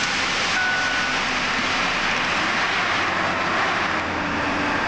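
A Ford F150 with a 5.4 Triton V8, freshly running again after repair work, holds a loud, even, continuous engine roar with no talking.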